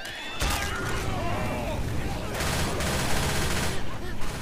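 Rapid gunfire bursts in the zombie shooter Left 4 Dead 2, dense crackling shots running almost continuously at close range with game chaos and voices mixed underneath.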